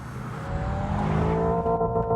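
A Hyundai IONIQ 5 N plays a synthetic engine note from its sound generator, a loud, close, rising rev with tonal harmonics climbing as the car accelerates, no voices.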